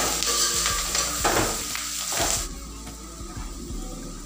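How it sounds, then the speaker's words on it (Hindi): Spices for chicken masala, including kitchen king masala, cumin and coriander, sizzle and scrape as they are stirred in a hot pan, a steady close frying hiss with spoon strokes that thins out partway through. "अब इनको हम अच्छी तरह से चलाते हुए मिक्स कर लेंगे।"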